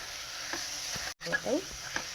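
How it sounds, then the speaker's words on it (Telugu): A brief burst of sizzling as a spoon scrapes and stirs rice in a hot pan, broken by a sudden short cut in the sound. "బియ్యం వేసుకున్నాక ఒకసారి కలుపుకోవాలండి."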